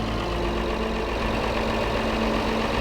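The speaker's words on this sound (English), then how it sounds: "Here's the other tractor that we have." A John Deere 4955 tractor idles in Farming Simulator 22, a steady low engine drone with a constant hum, close and unchanging.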